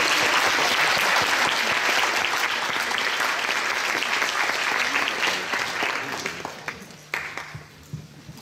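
Applause fills a European Youth Parliament session hall in Leverkusen, loud and dense at first, then thinning into scattered individual claps that fade out over the last seconds.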